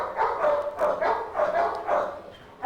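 Dogs bark and yip repeatedly at a Toronto animal shelter, a run of several loud, fairly close barks with short gaps between them, some with a whimpering edge.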